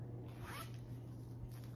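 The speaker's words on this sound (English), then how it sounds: "it's this like mock neck sweater with a little zipper right here." Small zipper on a Smartwool mock neck sweater, a short close zip pulled once over a steady low hum.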